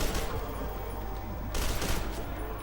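Gunfire from the video game F.E.A.R 2: a dense, continuous burst of rapid shots, loud and unbroken for a few seconds, with a sharper flurry partway through.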